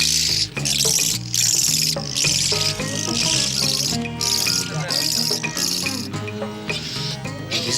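Small birds caught in a net squawk and squeak in agitated bursts, with sharp, shrill calls repeating irregularly at close range over a dense background.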